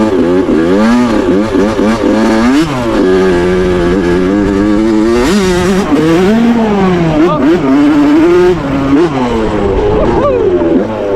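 A 2001 Suzuki RM 80 dirt bike fitted with a 2003 RM 85 cylinder revs hard while riding through mud, its loud, rising and falling engine whine continuous and close throughout.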